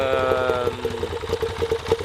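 A 2017 Moto Guzzi V7 II Racer Limited Edition motorcycle engine idles in neutral with a steady, close mechanical rumble and light clatter, and a brief voice comes in over it.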